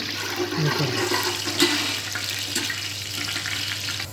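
Whole spices such as cumin frying in hot oil for chicken pulao, a steady close hiss and sizzle throughout with a brief clink midway, no talk.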